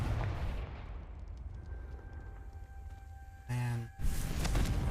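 Confringo fire spell explosion in the video game Hogwarts Legacy, a rumbling blast amid game ambience, then a short tonal chime-like burst near the end.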